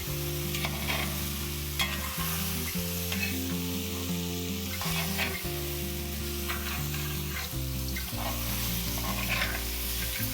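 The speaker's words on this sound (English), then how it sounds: "Just let's mix this well." Ginger and garlic paste is stirred into frying onions and potatoes, giving a continuous close sizzle with regular scraping strokes of a spoon against the pan.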